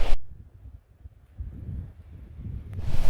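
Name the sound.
wind gusting, tarp flapping at a Dartmoor wild camp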